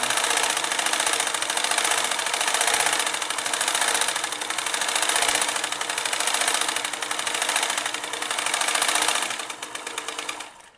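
A sewing machine runs steadily, stitching a double seam on a trendy elasticated baby frock. The loud mechanical whir holds an even, rapid rhythm throughout and eases off slightly near the end.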